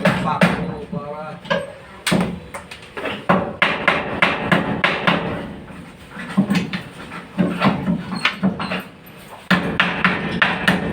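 Hammering nails during demolition of a living-room ceiling, with repeated sharp, loud, close blows in irregular bursts. A dog pants and whimpers nearby.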